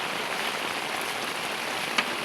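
Heavy rain pours in a steady, dense hiss with no pauses, loud and continuous throughout the short stretch.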